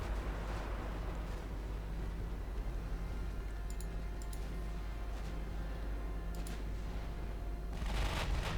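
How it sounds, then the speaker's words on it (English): Naval guns shell an enemy ship in the warship game Ultimate Admiral Dreadnoughts: a low, steady rumble with several muffled distant booms, and a louder burst of fire near the end. "shelling that guy"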